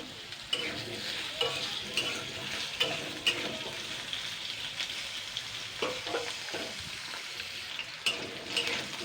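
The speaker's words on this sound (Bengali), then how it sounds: "আলুটাকে আগে খালি কড়াইতে আগে আমি তেলের মধ্যে আর কি দুই এক থেকে দেড় মিনিট হালকা নাড়াচাড়া করে নিয়েছি" Sliced potatoes fried in oil in a wok (kadai), stirred with a spatula: a continuous close sizzle broken by repeated scraping and clinking strokes at an uneven pace.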